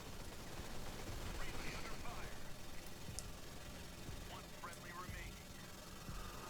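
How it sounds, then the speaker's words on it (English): Modern Combat 5 mobile shooter battle: dense distant rattling gunfire and bursts over constant background rumble, fairly quiet, with a few sharp cracks standing out. "There is a lot of gunfire happening."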